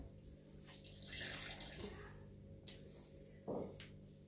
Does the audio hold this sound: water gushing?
yes